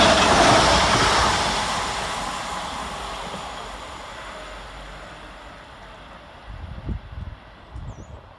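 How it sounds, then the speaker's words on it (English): Class 769 train number 769450 passing through Moses Gate railway station in thick fog, a loud rushing roar close by that fades steadily as it moves away, ending with faint clatters. "Next passing through the station is 769450, working 2 Whiskey 10 from Alderley Edge to Southport via"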